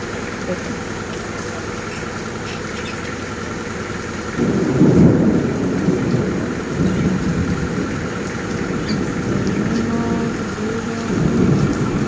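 Steady pre-monsoon (Baishakhi) storm rainfall hisses throughout while deep rolls of thunder rumble in twice, the first one long and heavy.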